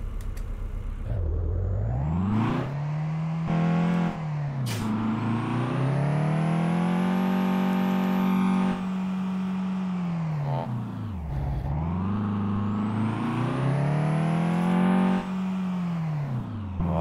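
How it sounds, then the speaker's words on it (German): A Tofas Serce car engine in the game Euro Truck Simulator 2 starts and runs, its tone sweeping up and down through several rev climbs and gear shifts, loud and steady with no talking. "So, wir machen den Motor an."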